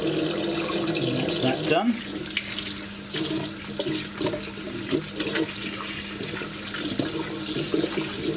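Tap water runs steadily while a Bissell Crosswave hard floor cleaner is rinsed, a continuous close splashing stream with a few clunks as parts are handled, and a voice speaks briefly over it.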